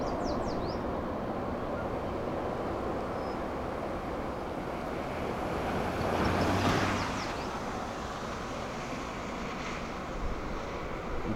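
A short CSX double-stack freight train of about 30 or 40 cars, hauled by Canadian Pacific locomotives, rolls past outdoors as a steady, fairly loud rumble with wind noise that swells briefly midway.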